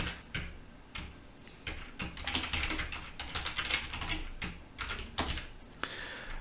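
Quick bursts of typing on a computer keyboard as a password is entered, irregular clicking keystrokes close by and fairly soft, with no talking.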